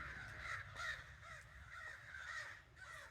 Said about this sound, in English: Crows are singing